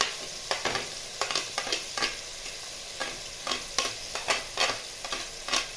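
Chopped ginger and garlic frying in a pan for an aloo gobi matar dish, with steady sizzling broken by repeated rhythmic stirring scrapes, close and fairly loud, no talking.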